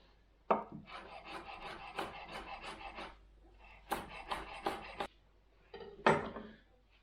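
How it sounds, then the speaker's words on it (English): Peppers are finely chopped with a knife on a cutting board, making quick rapid bursts of close, crisp taps with short pauses between runs. "I'm going to cut my peppers a little finer"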